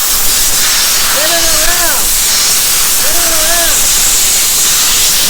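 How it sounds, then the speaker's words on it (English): Compressed air blasts debris out of a Breckwell P22i pellet stove exhaust combustion fan, a steady loud hiss throughout, with brief tonal whistling sweeps rising and falling twice over the rushing air. "the compressed air works great"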